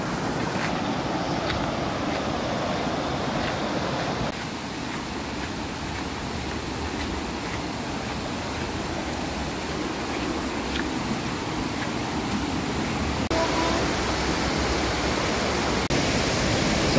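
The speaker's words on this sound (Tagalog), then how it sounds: "Medyo malakas na yung lagaslas ng tubig, no?" Rushing water of Ditumabo Mother Falls, a steady broadband roar that is loud and continuous, with no voices over it, and it swells slightly toward the end.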